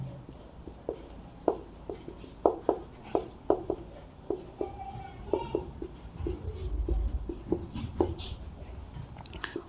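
Pen or marker writing out a math derivation on a board, with a steady run of short scratching strokes and taps, close and fairly quiet, with a low rumble toward the end.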